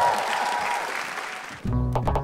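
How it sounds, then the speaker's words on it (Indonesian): A comedy stand-up audience bursts into loud, dense applause for a comedian on stage, filling most of the moment before it cuts off abruptly and a louder, clearer sound takes over at the end. "tepuk tangan untuk Benny."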